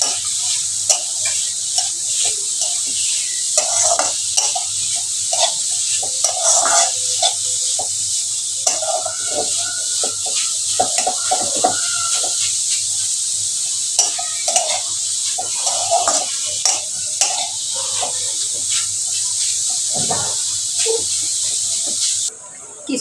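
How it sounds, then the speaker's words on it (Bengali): Grated watermelon rind being stirred in a pan, with a steady sizzle beneath repeated scraping of a spatula against metal and the occasional soft voice in the background. "দিয়ে এবার একটু মিশিয়ে নিচ্ছি"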